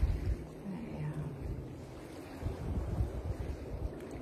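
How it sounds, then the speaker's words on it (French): Gentle water laps at the shore at Lacanau Océan while wind buffets the microphone, a soft, low, uneven wash with occasional gusts and no talking. "de sentir le vent, entendre le clapotis"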